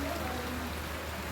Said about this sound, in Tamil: இப்போ வந்து சூப்பராக மழை பெய்யுது